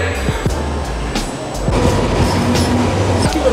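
A train rolls along with loud rumbling, rhythmic clicks and clunks of the wheels over rail joints and a faint squeal, heard from on board close by.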